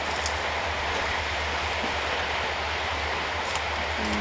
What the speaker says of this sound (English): That whooshing sound you hear every now and then is when the ice hits.